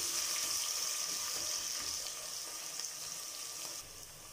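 Sliced onion sizzles steadily in hot oil, a dense hiss with a faint watery crackle that eases off slightly toward the end, close and without any talk.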